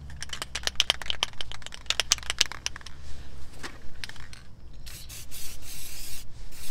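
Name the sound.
spraying grease onto brake parts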